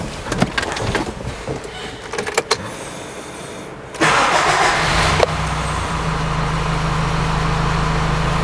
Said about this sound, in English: I'm gonna start the car and we will see if we get rid of that annoying flashing DPF light